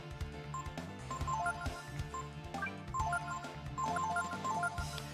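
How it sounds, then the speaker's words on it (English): A melodic electronic phone ringtone chimes repeatedly in a bright, looping pattern, fairly faint and heard alone without voices over it. "Fucking phone, I'm trying to talk here."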